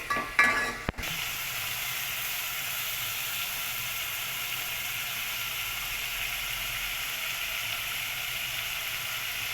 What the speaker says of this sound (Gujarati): પ્યુરી એડ કરશું. તેલ છૂટું પડે ને ત્યાં સુધી જ આપણે આને સાતડી લઈશું.